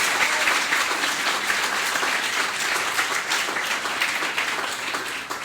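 A book-launch audience gives the author a big round of applause, a full and sustained burst of many people clapping that stays loud throughout and eases off only slightly at the end.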